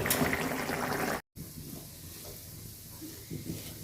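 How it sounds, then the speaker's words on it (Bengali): Bitter gourd (karela) frying in a pan, a steady dense sizzle and hiss up close, briefly cut off for a moment, then continuing softer with faint bubbling crackle. "এখন করলা ভাজি করে নিব"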